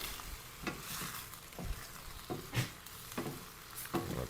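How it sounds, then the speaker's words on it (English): Ground hamburger meat fries and sizzles in a pan with a steady crackle, broken by occasional scraping stirs of a utensil, close and alone with no talk. "Alright, my hamburger's starting to brown."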